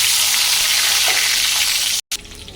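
Tomato dropped into hot oil in a pan while cooking a curry of rohu fish with potato and eggplant, giving a loud, close, hissing sizzle that cuts out suddenly near the end, then resumes more quietly.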